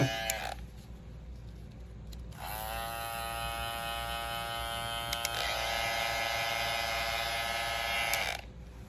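An Andis GTX-EXO cordless hair trimmer buzzes steadily with a high-pitched electric whine, starting after a brief pause and running for several seconds before cutting off.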